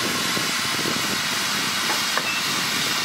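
US-built 1944 steam locomotive OMAHA coupling onto a train at Kingswear. A loud, steady steam hiss dominates, with faint clanks underneath.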